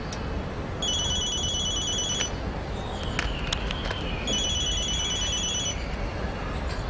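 A phone rings in two bursts of rapid electronic trilling, separated by a short pause, with a faint rustle of movement between them.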